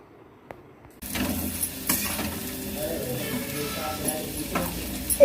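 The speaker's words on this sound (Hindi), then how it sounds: "इधर देखिए मैंने एक तरफ आलू छौंक दी है" Potatoes tempered in hot oil sizzle loudly in a pan after a quiet start, with stirring scrapes and occasional metallic clinks of a spoon against the pan.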